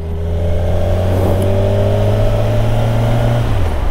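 A 2024 Kawasaki Ninja 1000SX four-cylinder motorcycle engine runs loud and close, holding a smooth, steady drone with a rising revving tone before easing off near the end.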